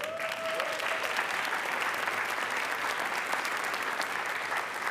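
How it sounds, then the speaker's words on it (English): An audience at a school board meeting applauds steadily, a dense wash of many hands clapping at an even level throughout. "we'll clap for that"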